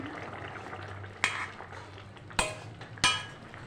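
A spoon stirs egg curry with cauliflower and potato in a pot, with a soft wet churning broken by three sharp metallic clanks against the rim.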